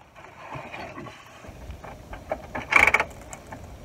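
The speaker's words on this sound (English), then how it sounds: "we're going to move the transmission selector all the way down into low" Transmission selector on a 1998 Chevy Gladiator van with a 4L60E automatic, shifted down into low: soft mechanical clunks and ratcheting clicks, with a brief, louder burst of clicking near the end, close by and with no talking.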